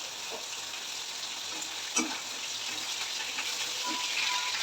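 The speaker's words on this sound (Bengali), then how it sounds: "মাছগুলো ভাজা হয়ে গেছে, এবার তুলে নেবো।" Fish frying in oil, a steady close hiss and crackle throughout, with one sharp clatter near the middle as pieces are lifted from the pan.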